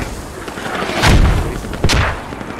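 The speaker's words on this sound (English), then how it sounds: "shots coming at us" Two heavy gunshots in a squad-based video game, a loud booming report followed under a second later by another sharp, close blast, with no one speaking.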